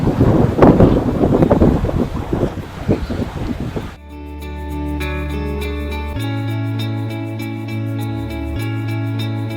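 Gusty wind of about 16 knots buffets the microphone on a sailing boat in the Baltic for a few seconds, and then steady music takes over.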